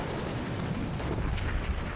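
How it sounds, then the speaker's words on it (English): Booming howitzer artillery fire in the Forts real-time strategy game, a dense rumbling blast with heavy low-end that sustains and rolls across the whole moment without any talk. "Howitzer 1 fires."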